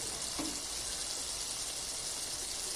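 A little water goes into chicken curry with green peas frying in oil, producing a steady, even hissing sizzle that stays constant throughout.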